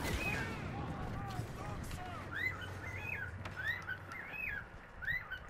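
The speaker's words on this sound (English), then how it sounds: "the whole time the bird's still going" A bird keeps calling in Star Wars Battlefront on the Palace Garage map, repeated short chirping whistles over a dense bed of distant gunfire and battle noise.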